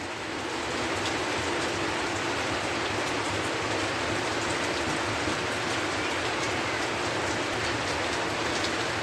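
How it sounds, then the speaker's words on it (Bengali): A downpour of heavy rain outdoors makes a dense, unbroken roar of drops drumming on surfaces, constant in loudness for several seconds, with no one talking. "বাইরে প্রচণ্ড বৃষ্টি হচ্ছে"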